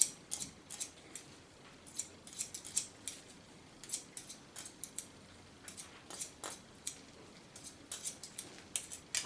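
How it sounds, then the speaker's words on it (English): Sharp metallic scissor snips come in quick clusters, close up and soft, with nothing else heard. "Nice noise, the scissors."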